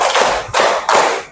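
Children clapping their hands together in a classroom counting game, with three loud group claps spread evenly across the moment, close and fairly dense with no talk.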